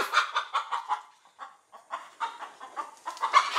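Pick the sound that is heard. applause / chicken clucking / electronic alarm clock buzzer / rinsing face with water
chicken clucking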